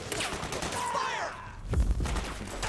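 Soldiers in Metal Gear Solid 4 open fire, a ragged burst of rapid gunshots rattling over a few seconds, with a heavier, louder volley near the end.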